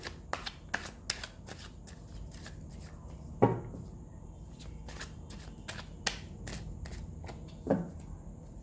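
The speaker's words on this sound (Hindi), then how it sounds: "Last shuffle." Tarot cards being shuffled in a quiet room, a run of crisp riffling flicks and soft slaps coming close and fairly gentle, with a couple of louder snaps along the way.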